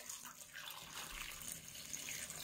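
Water running steadily into a cooking pan over a dish of pork with buckwheat, a continuous splashing pour that lasts throughout at close range, with no voices.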